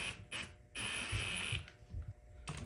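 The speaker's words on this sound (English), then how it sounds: "I use the old ring gear bolts just to suck the ring gear up the rest of the way" A hand ratchet works on old ring gear bolts, drawing the ring gear onto an ARB locker in a Jeep JK front Dana 30 axle. Close, short bursts of metallic clicking come in uneven strokes with brief pauses between them.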